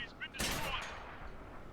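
A tank cannon shot in the World of Tanks video game, BT-SV light tank facing a Panzer 38T, booms once as a loud, sharp blast with a long fading tail, standing alone with no talk.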